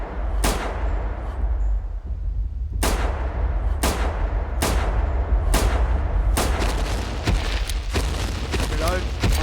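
Loud gunshots blast at a Giganotosaurus in a dinosaur-hunting video game, a few spaced shots first, then a quicker burst of reports over a deep rumbling backdrop.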